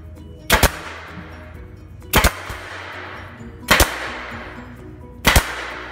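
Pneumatic stapler driving single staples into the bottom bar of a wooden frame: four sharp, loud snapping shots spaced about 1.5 seconds apart, each with a brief ringing tail, over a low steady hum.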